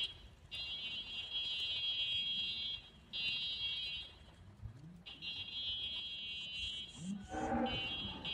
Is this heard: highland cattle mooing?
yes